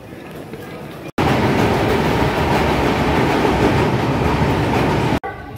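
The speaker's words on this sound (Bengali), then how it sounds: "ট্রেন ছেড়ে দিয়েছে।" A passenger train on the route from Kolkata to Amritsar runs on its rails in a loud, continuous rumble with rhythmic wheel clatter, framed by brief cuts at start and end.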